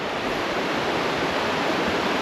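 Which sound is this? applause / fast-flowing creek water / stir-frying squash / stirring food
fast-flowing creek water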